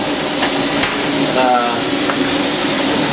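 Chicken cooks in a hot pan for pasta, a steady sizzle and hiss running throughout with a few sharp utensil taps, close and fairly loud.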